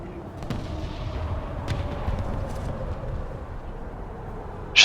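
Booming artillery fire rumbles in a World of Tanks game soundscape, with distant thuds and cracks over a steady roar of battle noise.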